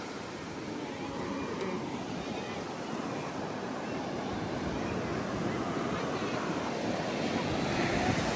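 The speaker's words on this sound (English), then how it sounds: "So this is the view of Topsail Beach." Steady surf and wind roll over the sand at Topsail Beach, a continuous, fairly loud wash of breaking waves with gusty wind noise on the microphone throughout.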